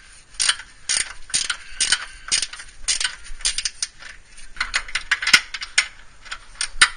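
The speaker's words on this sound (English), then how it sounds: "So normally I use a ratchet 17." A 17 mm ratchet tightening bolts on a 1998 Honda during motor mount and radiator work, clicking in quick repeated strokes with short pauses, close by and with no talking.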